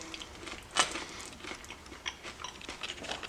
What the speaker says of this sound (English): I'm sure you heard that crunch.